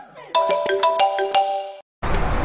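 A phone's message notification tone plays a quick series of bright, repeated electronic chimes, loud and close, then cuts off briefly before a burst of noise.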